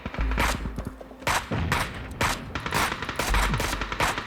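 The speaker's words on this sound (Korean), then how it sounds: "이거 쏘면 돼 고배율에 단발로 쏴" Rapid gunfire from PUBG battle royale play, single shots fired through a high-magnification scope, loud close cracks in quick irregular succession over the whole stretch, no voices.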